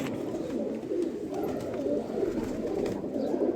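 Several pigeons cooing together at close range, a dense, continuous murmur of soft overlapping coos with no voices over it.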